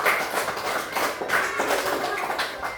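A classroom of fourth-grade children claps together, a dense, loud patter of many hands that pulses in brief waves for a few seconds.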